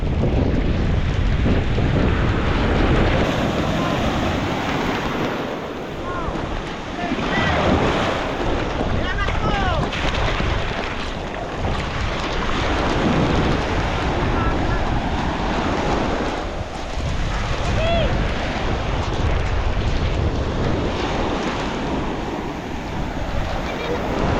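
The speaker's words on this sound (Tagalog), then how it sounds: "Sobrang lakas ng hangin." Strong wind roars continuously across the microphone alongside rushing water, out at sea in a small fishing boat, a heavy steady buffeting with faint voices occasionally underneath.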